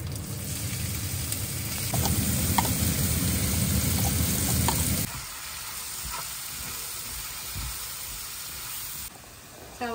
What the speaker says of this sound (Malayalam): ഇനി അതേ ബട്ടറിലേക്ക് നമ്മൾ നമ്മുടെ ഗാർലിക് ഇടുകയാണ്